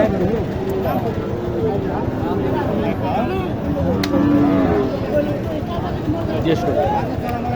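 Cattle at the Mataji cattle market in Naogaon district give a long, loud moo in the middle, amid constant market babble and people talking close by.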